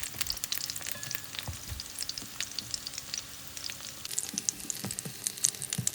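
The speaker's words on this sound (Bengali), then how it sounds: "প্যানকেকগুলো ভাজা হয়ে গেছে" Shrimp pancakes fry in oil in a pan, a steady close crackling sizzle with dense sputtering pops and occasional spoon sounds, no voices.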